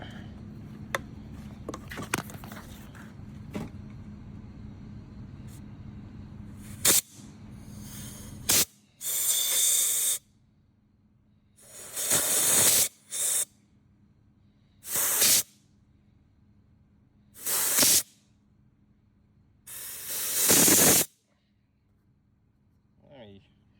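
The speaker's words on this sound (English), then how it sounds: "Take the air hose and blow in it." Compressed air hose blasting into a vintage Homelite 7-19 chainsaw in short, loud hissing bursts separated by pauses, following a stretch of quieter rumbling and clicks at the start.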